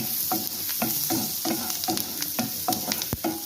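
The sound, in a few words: frying chopped garlic and green chilli in a pan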